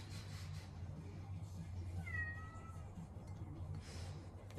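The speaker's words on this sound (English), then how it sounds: "if you can hear the cat meowing at me" A cat meows once, a short, faint, rising-then-falling call, over a low steady hum in a workshop where a mountain bike bottom bracket is being serviced.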